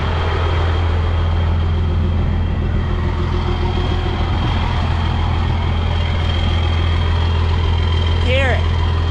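A 1998 short-bed Dodge with a 12-valve Cummins diesel idles loudly with a steady low rumble throughout, and a brief whistle-like chirp is heard near the end.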